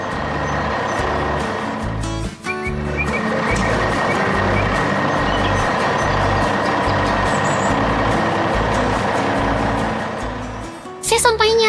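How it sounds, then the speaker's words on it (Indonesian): A green construction truck drives through city streets, its engine humming steadily with a repeating beep-like tone, the sound close and continuous over a low musical backing. "Kini truk hijau itu melaju dengan pasti melalui jalanan kota."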